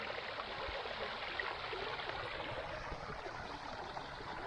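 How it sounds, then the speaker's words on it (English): Soft, steady rushing water of a small irrigation stream burbling along at a distance beside a country lane in Ubud, Bali, with no voices. "gurgling sound you hear is the irrigation stream"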